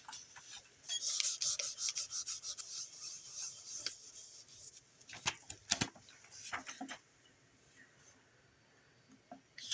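Polymer clay medallion being burnished by hand, giving a steady run of soft, close rubbing and rasping strokes for several seconds before it thins to a few scattered faint touches.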